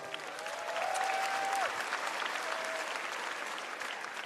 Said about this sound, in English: Let's give our contestants another round of applause.